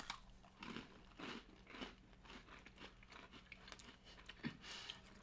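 Close, repeated crunchy bites and chewing of a grain-free peanut butter keto cookie containing peanut pieces, each bite a sharp crackling crunch in an otherwise quiet setting.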